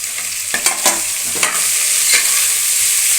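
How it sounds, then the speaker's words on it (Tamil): Onions sauté in a pan for chicken biryani, a steady close sizzle broken by a few sharp scraping stirs of a spoon against the pan, with no voices. "நல்லா இது வந்து பொன்னிறமாக நல்லா வதங்குற அளவுக்கு நம்ம நல்லா வதக்கிக்கலாம்."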